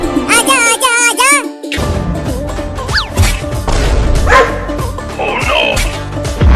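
Two dogs bark loudly in a comedy skit while trying to catch a cat, sharp repeated barks mixed with crashes and a voice, busy and close.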